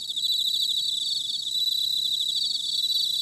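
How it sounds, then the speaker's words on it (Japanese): Steady chorus of insects in a Doraemon cartoon: bell crickets, pine crickets and other crickets chirring and trilling together, continuous and fairly loud with no talk. "スズムシ、マツムシ、コオロギ、他にもどっさりいるからね。"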